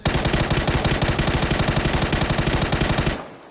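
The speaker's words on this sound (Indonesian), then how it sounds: "Di sini kita udah siapkan ya makro untuk ditembak selama 3 detik menggunakan M4." An M4 rifle in the PUBG video game firing full auto for about three seconds, a loud rapid continuous burst of evenly spaced shots that stops abruptly, alone with no talk.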